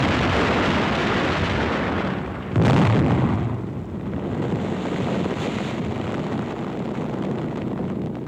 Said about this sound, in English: A heavy concentration of anti-aircraft fire brings further losses in Allied planes